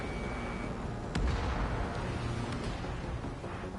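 Missile explosions in Ace Combat 7, a dense, steady roar of blasts and rumbling with one sharper burst partway through, loud and continuous with no talk.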